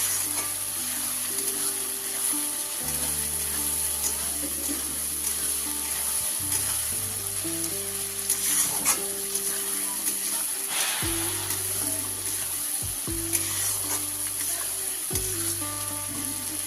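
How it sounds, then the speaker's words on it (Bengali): Masala spices sizzle steadily in a pan while being sautéed for a spicy red chicken curry, a constant close frying hiss throughout with background music and no break. "পাঁচ মিনিট কষানোর পরে মশলা থেকে জল ছাড়তে শুরু করেছি"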